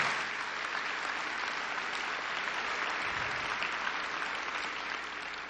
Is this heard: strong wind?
no